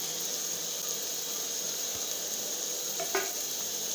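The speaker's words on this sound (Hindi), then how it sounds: "ये देखिए प्याज भुनना शुरू हो गए।" Onions fry in a pan as the base for a chicken curry, giving a steady close sizzle with a faint clink of a utensil near the end.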